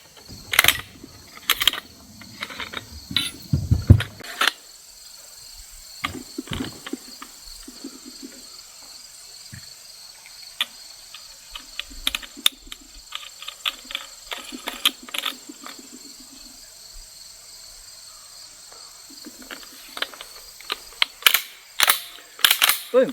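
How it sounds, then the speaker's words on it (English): Barrels being swapped on a RETAY GPS shotgun, 28-inch and 18-inch, heard as a run of close metallic clicks, slides and clacks at an irregular pace, with a faint high hum underneath and no talk. "swapping out the barrels is plenty quick"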